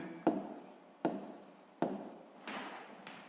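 A pen scratches out a math answer for a fifth-grade exercise in four quick, crisp strokes at close range, each one fading fast into a quiet room.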